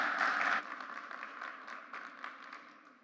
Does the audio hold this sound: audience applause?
yes